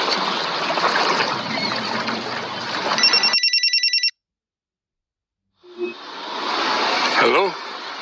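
A telephone rings in a series of quick, bright electronic pulses after a stretch of steady background hiss, then cuts to silence before ambient noise and a short voice return.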